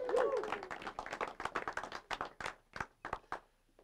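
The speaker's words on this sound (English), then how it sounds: "so let's give that a round of applause." A rally crowd claps and applauds, starting as a dense roar that thins into scattered individual claps before fading out.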